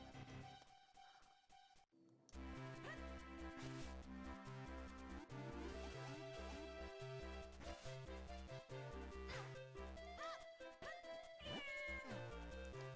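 Cat meows from The Legend of Zelda: The Minish Cap, heard over steady looping chiptune game music after a brief quiet moment, with no talking.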